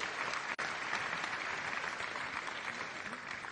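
Steady, even applause from an audience at an opening awards ceremony, a continuous wash of many hands clapping with one brief dropout near the start.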